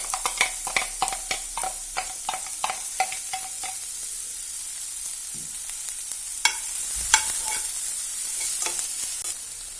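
Chopped onion and crushed garlic sautéing in a pan, with a steady sizzle under repeated sharp clicks and scrapes of a utensil stirring, close and moderately loud with no voices.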